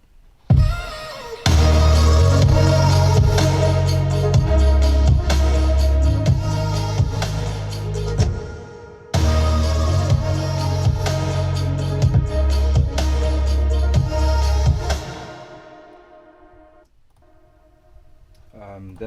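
Distorted vocal sample pitched up 17 semitones, run through Camel Crusher and a guitar amp for three layers of distortion, riding over a thick, pounding low-end beat that breaks briefly midway and fades out near the end.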